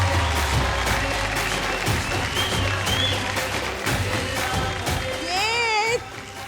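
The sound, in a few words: audience applause after a dance performance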